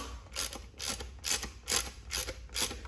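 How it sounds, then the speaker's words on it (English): A 13mm deep socket ratchet tightens exhaust manifold nuts on a Fiat 500 Abarth, giving six evenly spaced bursts of rapid clicking, close and clear with no talking. "we're going to take our 13mm deep socket and we're going to tighten them down"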